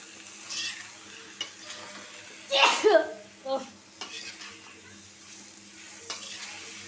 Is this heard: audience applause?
no